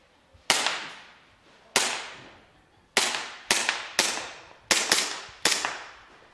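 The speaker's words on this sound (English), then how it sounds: "So we're going to get a couple shots off here and get a kind of initial impression." A KWA 1911 airsoft pistol fires seven sharp, crisp shots with short decaying tails, spaced roughly a second apart and sometimes in quick pairs, close by with no talk.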